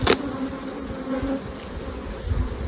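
Honey bee colony buzzing at an open hive during a honeyflow, a dense close hum of many bees with individual buzzes passing near, plus a sharp click at the start.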